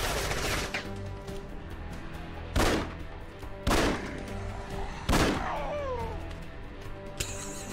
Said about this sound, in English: Who gave this man an assault rifle?